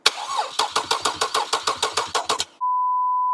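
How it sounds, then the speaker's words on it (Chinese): A Toyota car engine cranks with rapid rhythmic chugs for about two and a half seconds, then a steady electronic beep takes over to the end; no speech. "先让发动机空转一下。"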